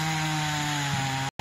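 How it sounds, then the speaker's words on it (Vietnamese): A chainsaw running steadily at close range while cutting a branch on a large sao đen tree, its engine drone loud and continuous before cutting out abruptly near the end. "kéo máy cưa lên cắt cái nhánh này"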